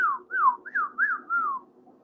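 A person whistles a short melodic phrase of five rising-and-falling notes, each clear and close, with brief gaps between them and no talking.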